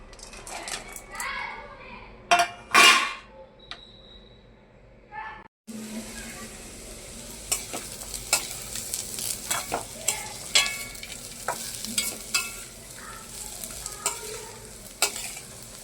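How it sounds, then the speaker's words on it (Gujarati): Mango seeds sizzle softly in ghee in a pan over low heat with scraping stirs, while children chatter and play in the background; a sharp clatter comes partway through. "આપણે હવે આ ધીમા ગેસે શેકી લઈ"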